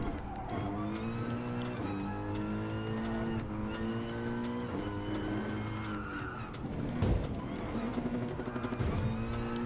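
An Acura NSX race car engine in Gran Turismo Sport on a speedway and rallycross course, with a steady, loud engine drone that shifts pitch through gear changes, plus tire squeal and a scrape near the end.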